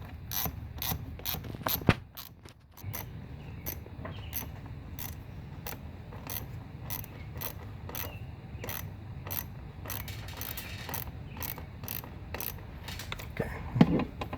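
Worn ratchet tightening the hose clamp on a 2013 Nissan Altima cold air intake, a steady run of evenly spaced sharp clicks, close and moderately quiet, continuing throughout.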